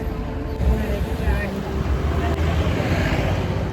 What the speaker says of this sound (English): At Dal Lake now, going for Shikara ride.